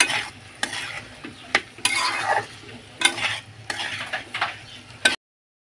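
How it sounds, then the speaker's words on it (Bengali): Turmeric and chili powder stirred into a frying onion-spice mix for spinach and prawn curry: bursts of spoon scraping against the pan, each one rising over a soft, constant sizzle, ending abruptly. "দিয়ে দেবো 1 চামচ হলুদ আর 1 চামচ লঙ্কা গুঁড়ো দিয়ে ভালো করে মিক্স করে নেব।"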